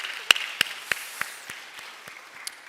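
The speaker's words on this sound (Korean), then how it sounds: "우리 청년부에게 격려의 박수 한번 하겠습니다." In a Korean church during Sunday worship, a few sparse, evenly spaced claps ring out in a quiet room, slow and distinct rather than a full burst of applause, tapering off after about a second and a half.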